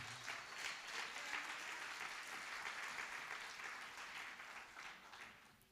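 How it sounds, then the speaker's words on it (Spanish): Church congregation applauding together, a steady wash of clapping that holds for nearly six seconds and thins slightly toward the end, with a faint voice underneath. "Dale un aplauso de amor al Señor, por favor"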